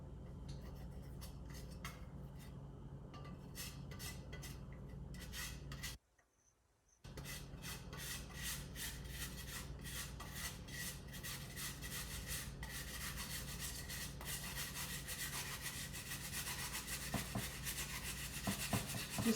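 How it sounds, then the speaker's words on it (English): A carrot being grated for a vegetarian pizza gives steady, close raspy scraping strokes, repeated rhythmically with a brief pause partway through, no talking. "I want to grate a little bit of this carrot"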